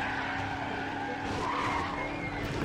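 Car tires skidding and screeching in the Banjo-Kazooie: Nuts & Bolts video game, a steady sustained squeal with engine noise running loud and continuous for the whole stretch, no voices.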